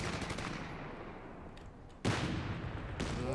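Gunfire and shelling in Company of Heroes 3, around a Churchill tank. Rattling bursts of fire run throughout, with a heavy blast hitting midway and another impact near the end. There is no talking.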